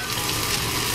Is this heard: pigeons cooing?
no